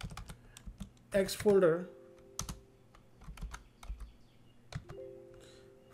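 A command being typed on a computer keyboard in a Red Hat Linux terminal, heard as a quick burst of close key clicks followed by scattered single taps, while someone talks over it.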